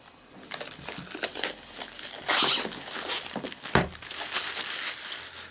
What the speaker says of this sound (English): And I got my trusty cutter here, so let me just get the plastic off here